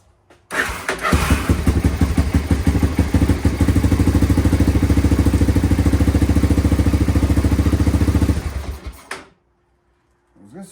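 A 1985 Honda 250ES Big Red ATV engine fires up after a choked start, then runs loud and close with a rapid, even putter for several seconds before cutting off abruptly.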